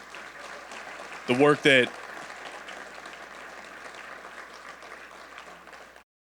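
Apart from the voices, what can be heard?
applause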